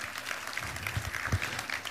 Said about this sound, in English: That's a good time to clap.